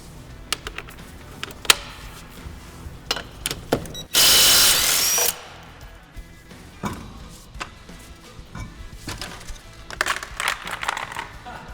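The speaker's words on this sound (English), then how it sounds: "We're going to take the wheel off using a 19mm socket." A power tool with a 19mm socket removes a wheel from a Honda Civic: one loud, steady whirring burst of about a second, surrounded by clinks and handling noises in a quiet garage.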